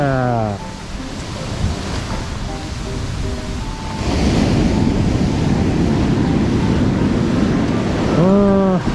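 Strong surf rolls onto Sendai beach during winter shore fishing for flounder, a steady loud wash of breaking waves with wind buffeting the microphone, swelling halfway through, while someone talks briefly.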